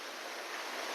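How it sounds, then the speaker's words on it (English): Ocean waves near a house in Real, Quezon Province, form a dense, unbroken wash of surf noise, loud and steady throughout. "So this is the ocean where I live"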